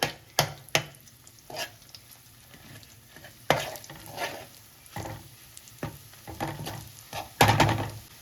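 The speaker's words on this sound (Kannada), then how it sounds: "ಇದನ್ನು ಇವಾಗ ಒಂದು ಸ್ವಲ್ಪ ಈ ರೀತಿ ಫ್ರೈ ಮಾಡಬೇಕು." Garlic paste with chili powder fries in hot oil in a pan, a soft steady sizzle broken by scraping stirs and occasional clunks of a spoon against the pan, close and fairly quiet.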